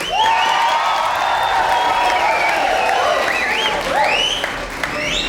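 Loud audience applause and cheering for Wilson Phillips on a 1991 television show fill the space, with whoops and whistles rising over the steady clapping.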